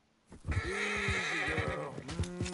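A horse in Red Dead Redemption 2 gives a loud, close whinny lasting about two seconds, with soft hoof thuds underneath and no talk.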